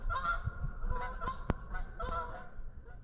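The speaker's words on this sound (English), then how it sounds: "I'm sorry about those really annoying geese" Geese on the water near a kayak fishing spot in cool weather give a series of loud, nasal honks in quick, uneven bursts, with one sharp honk standing out in the middle and no voices over them.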